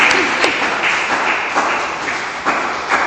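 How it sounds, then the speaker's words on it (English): An Igbo community event audience claps loudly and continuously for about three seconds, a dense crowd applause with a few sharper claps rising above it. "Because let the clap be a little more encouraging."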